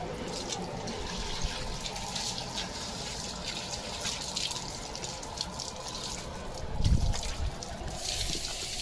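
A garden hose runs water over Leo, a pet dog, playing and being bathed in the cool afternoon, giving a steady close splashing wash with a brief louder burst of splatter near the end.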